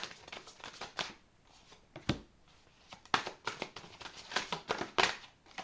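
A deck of tarot-style cards is shuffled by hand in a quiet room, giving soft, irregular bursts of riffling and flicking, close and fairly faint, with brief pauses between handfuls.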